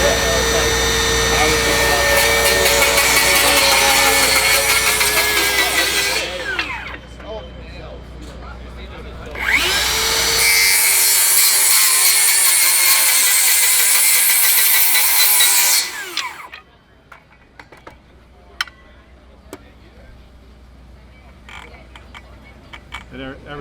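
A DeWalt Elite Series carbide saw blade cuts through stainless steel nails in two loud, sustained, screaming bursts. A short quieter gap separates them, and the clip ends in a low background with scattered clicks.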